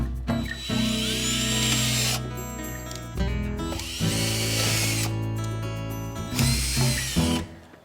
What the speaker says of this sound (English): we're going to go ahead and drill holes so that we have plenty of drainage in our decorative